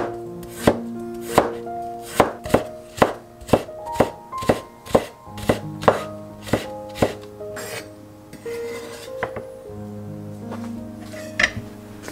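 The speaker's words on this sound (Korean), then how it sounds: "당근은 반을 자르고 채 썰기를 해주셔야 해요." A knife chops carrots and red chili peppers on a cutting board, a run of about fifteen sharp evenly spaced thuds, close and loud, then a few scattered cuts and scraping, with no talking.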